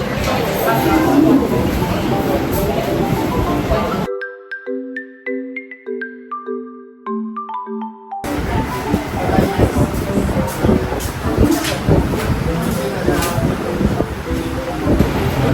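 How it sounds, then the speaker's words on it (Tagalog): Strong wind on Boracay beach roars as loud, continuous broadband rushing and buffeting against the microphone, cut by a few seconds of tonal music before the gusts return. "Sobrang lakas ng hangin"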